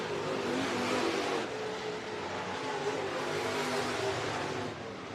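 Bomber and Modified stock cars racing at Worthington Speedway, a steady loud roar of engines blending into one continuous broadband drone with no clear passes or gaps, and no talk.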